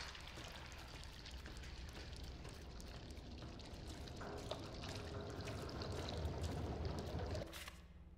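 Dripping black ink in the Bendy and the Dark Revival video game, a steady wet patter and trickle of many drops, fairly faint and continuous, with no voices, ending with a short quieter tail.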